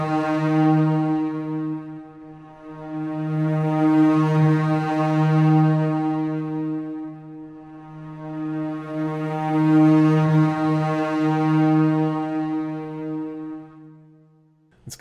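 Long sustained notes from the 8Dio Adagietto string library, a rich harmonic chord swelling and fading in two slow waves, loud and continuous with no talking.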